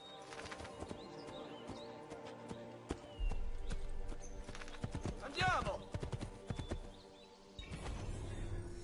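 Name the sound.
horse hooves while riding in the video game Assassin's Creed II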